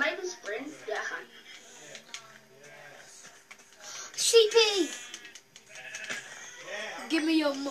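Sheep bleat in the Minecraft video game: several short, nasal bleats, some close and clear, some fainter, mixed with a young player talking throughout.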